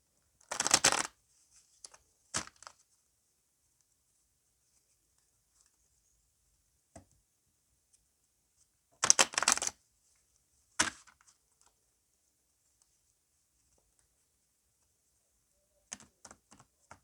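A deck of tarot cards shuffled in quick riffling bursts, two longer flurries separated by silence and a few isolated soft taps and flicks, close and clear with no talk.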